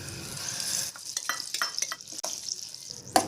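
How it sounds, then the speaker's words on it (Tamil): Jackfruit paste sautéing in ghee with a steady close sizzle, broken by repeated stirring scrapes and clinks of a spoon against the pan, ending in a sharper knock. "அதை வந்து நெய்யில் வதக்கி எடுத்துக்கலாம்"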